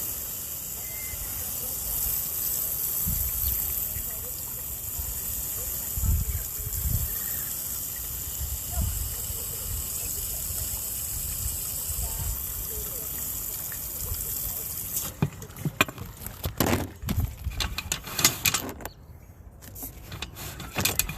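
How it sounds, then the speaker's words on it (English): Water runs through an old cast iron sewer pipe with heavy buildup during a camera inspection, a steady hollow rushing hiss, then irregular clattering bursts near the end. "let's see if we can get a little bit more water going down"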